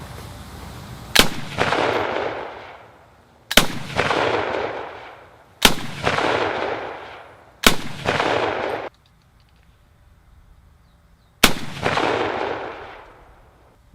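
Shots from a Johnson rifle fitted with a 7mm Mauser barrel crack out loudly, five sharp reports spaced a couple of seconds apart, each trailing off in a long outdoor echo, with one longer pause before the last.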